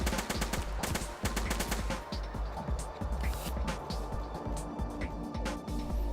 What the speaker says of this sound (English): Oh, SMG. Basically a faster firing assault rifle.